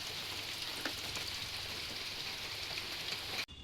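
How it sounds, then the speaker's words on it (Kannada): Steady heavy rain pours down at a village home during a power outage, a continuous wash of hiss that cuts off abruptly near the end. "ಈ ಥರ ಮಳೆ ಇದೆ ನೋಡ್ರಿ ನಮ್ಮ ಕಡೆ."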